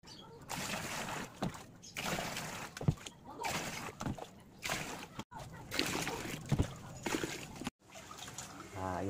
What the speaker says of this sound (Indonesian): ini pengisian airnya ya, sampai merendam media tanam kangkungnya ya